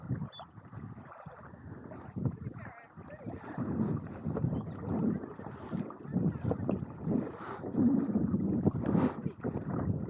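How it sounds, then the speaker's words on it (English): Wind gusting through a canyon around a paddle boarder on the water, a rough rumbling roar that swells and fades unevenly, with faint talk under it. "the wind has picked up"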